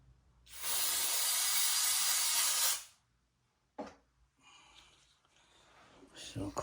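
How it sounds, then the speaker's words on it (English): Cleaner sprays in one long, loud hiss onto the throttle body of a 2007 Lexus LS460 for about two seconds, followed by a few short, fainter bursts and handling noises, with someone speaking. "spray another section."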